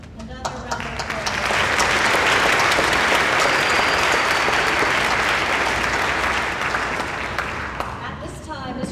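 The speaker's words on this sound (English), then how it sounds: "Another round of applause." An audience at a high school senior award ceremony applauds for several seconds, a dense sustained wash of clapping that swells quickly and slowly fades, without voices.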